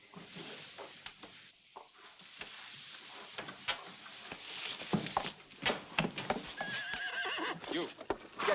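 A horse whinnies and snorts close by amid scattered hoof clops and shuffling, with a few sharp knocks in the background.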